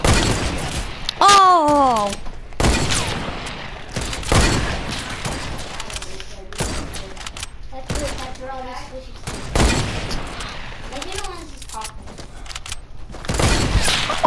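Gunfire rings out in a one-on-one video game match with sniper rifles, several loud separate shots spaced a second or two apart, while a player's voice exclaims over them.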